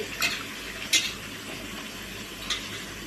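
Ridge gourd (beerakaya) frying in a pan, a soft, constant sizzle with a few sharp clinks of a utensil against the pan, no talking.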